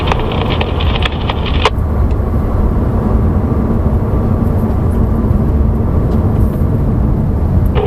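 A Porsche on a race track at a driving school makes a loud, steady engine roar heard from close by while braking hard into a turn, a continuous drone with no speech.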